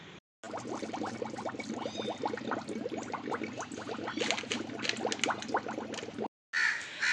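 Crows cawing loudly and repeatedly near a farmyard with chickens and pigeons, a dense overlapping chorus of harsh caws filling the scene almost without pause.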